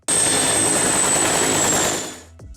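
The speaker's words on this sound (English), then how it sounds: "the engine startup is crowned by that slapping sound the helicopter is known for" A helicopter engine starts up with a loud, steady roar and a high turbine whine that hold for about two seconds before easing off; no distinct rotor slapping stands out.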